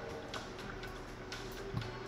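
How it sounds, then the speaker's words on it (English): An indoor clock ticks steadily in the background, giving faint, regular clicks about twice a second over a low room hum with no voices. "That's a clock that I have."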